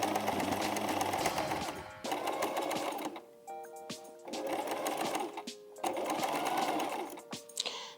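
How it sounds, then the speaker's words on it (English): A sewing machine stitching interfacing, running in several steady bursts of rapid mechanical whirring separated by brief pauses, close and clear. "first we have to sew this interfacing"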